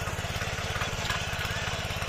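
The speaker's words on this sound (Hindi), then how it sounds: "ट्रैक्टर को नीचे वाले खेत में जोड़ रखा है।" A tractor engine runs steadily in a field, a continuous low rhythmic chugging throbbing at a close, even level throughout with no pauses.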